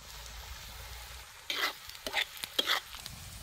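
Chopped onion fries in hot oil for egg bhurji, a soft background sizzle broken by several bursts of stirring as a spoon scrapes and turns the onions in the pan.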